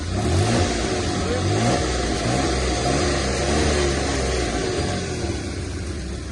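A car with a stroker engine revs hard, the pitch rising and falling in repeated sweeps over a loud, continuous engine roar at close range.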